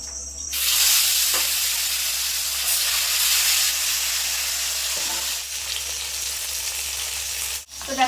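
Rui fish fries in hot oil with a loud, steady sizzle and hiss that runs almost without a break, briefly dipping near the end.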